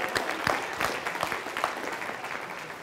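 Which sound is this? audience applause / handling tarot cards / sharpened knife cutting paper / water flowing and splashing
audience applause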